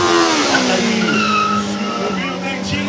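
A Honda motorcycle spins during a stunt show at a track in Artur Nogueira, its tires skidding and squealing over a loud revving engine that gradually lowers in pitch, with a voice partly audible.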